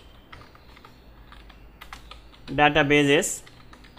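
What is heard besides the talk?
typing on a computer keyboard and hitting the enter key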